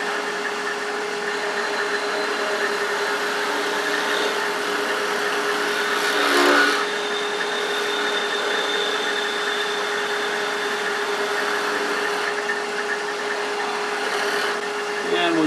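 A wood lathe turns a wooden spinning top, giving a steady, close whirring hum that runs unbroken throughout, with one brief louder scrape near the middle.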